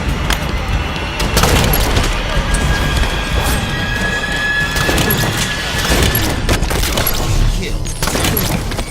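Shotgun blasts from Halo 5 Infection gameplay, several loud crashing booms in quick succession over a dense din of game effects.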